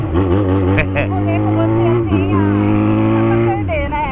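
Motorcycle engine idling or revving steadily, a loud continuous drone close by, with people talking over it.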